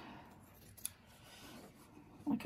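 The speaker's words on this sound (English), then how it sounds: "I don't normally use these big scissors to cut this open" Large scissors snip and rasp through fabric up close, quiet rubbing strokes with a sharper click near the end.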